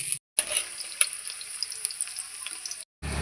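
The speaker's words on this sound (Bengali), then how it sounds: "তেলটা গরম হয়ে গিয়েছে, এবার আমি এখানে দিচ্ছি আগে থেকে কেটে রাখা গাজর।" Chopped carrot dropped into hot oil for a winter vegetable khichuri, a bright crackling sizzle with sharp pops and spits, heard close and unaccompanied by talk, framed by brief moments of silence at the start and end.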